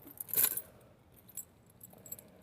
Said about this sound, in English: Grab my keys.